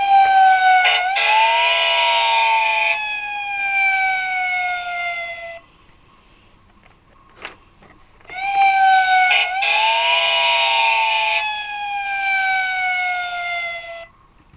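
Mickey Mouse toy fire engine siren, a loud electronic wail that runs about five seconds, breaks for a short pause, then sounds again for another stretch, close and clear.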